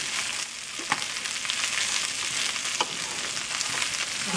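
Bacon and Brussels sprouts frying in a pan, a loud, dense sizzle throughout with a few sharp clicks as the pieces are tossed, no speech.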